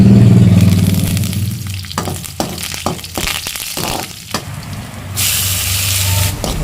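Curry leaves hit a pan of frying garlic and green chillies, setting off a loud sizzle, then a series of sharp clatters and scrapes from a spatula, and a fresh hissing burst near the end.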